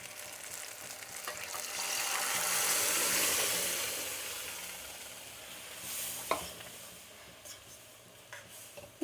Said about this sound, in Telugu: ఇప్పుడు పప్పు పోసుకునేద్దాం.